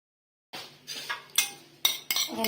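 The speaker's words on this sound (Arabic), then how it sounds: "غنزيد واحد العصير ديال الليمون ها هو غنحركو مزيان" A spoon stirs cake batter with lemon juice in a bowl, clinking against the sides in a few distinct scrapes and taps after a silent start, close and clear with no talking.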